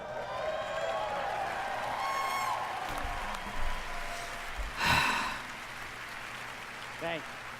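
Crowd applause and cheering at the Bethesda E3 2019 presentation, a broad wash of clapping swelling briefly mid-clip, with someone talking over it.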